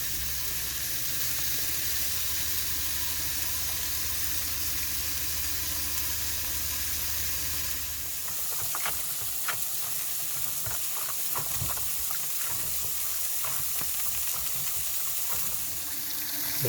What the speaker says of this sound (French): Donc les steaks sont en train de cuire